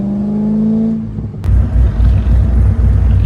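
A cammed Chevrolet Corvette C5 engine rumbles loudly from inside the car while driving, a deep lumpy idle-like burble that swells as the throttle opens after a brief click.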